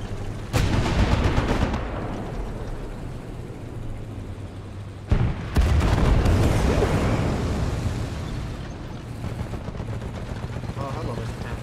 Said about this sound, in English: I think I'm gonna just fire off this last round into the air.